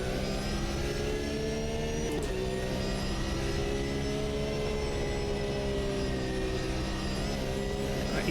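A Porsche GT3 race car engine in the Automobilista 2 racing game drones steadily at high revs, dipping briefly at an upshift before climbing again, loud and continuous with no talking.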